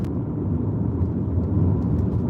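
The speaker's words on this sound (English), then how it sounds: "Traffic." Street traffic in the Phoenix area rolls past as a low, continuous rumble of engines and tires, fairly close and steady, with no voices over it.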